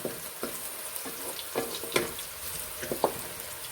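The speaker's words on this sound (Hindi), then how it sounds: "फिर इसमें हम प्याज फ्राई करेंगे।" Onions frying in a pan while cooking chana dal with bitter gourd, a steady soft sizzle with scattered crackles and occasional stirring scrapes, close and moderate, with no voices.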